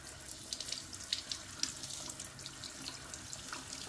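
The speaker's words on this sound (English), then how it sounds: "I can just hit them with the faucet really quick and get them nice and washed up." A kitchen faucet runs steadily while lobster mushrooms are rinsed under it, a soft continuous splash broken by brief bright spatters, with no one talking.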